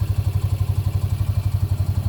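A cab tractor's engine chugs in a fast, even rhythm as it pushes into brushy ground along a back trail, a close, steady low-pitched pulsing with a faint clattering edge.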